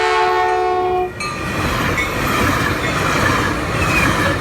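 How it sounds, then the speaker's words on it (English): At Churchill a train horn sounds loudly for about a second, then the roaring rumble and clatter of the passing train carry on close by. "Another train coming."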